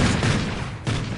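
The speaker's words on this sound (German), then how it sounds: "Ich hab ein fettes MG." A heavy machine gun in Call of Duty: Ghosts fires a loud, fast stream of shots. The firing has a slight dip near the end before resuming, with no voices heard.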